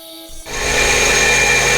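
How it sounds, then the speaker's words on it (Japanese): A bench grinder rough-sharpens a homemade metal blade. After a brief quiet start it spins up into a loud, steady, broadband grinding whine that carries on alone. "これはグラインダーでいい感じに研げば大丈夫ですね。"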